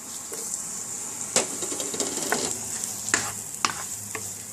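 Onions and tomatoes saute in melted butter with a soft, steady sizzle and occasional clicks and scrapes of a utensil stirring the pan, close and without voices.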